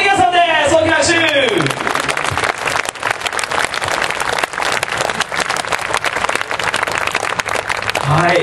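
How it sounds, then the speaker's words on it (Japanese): Big crowd applause at a football club supporters' victory report event, dense and continuous clapping, with a loud amplified voice over it at the start. "大きな拍手。"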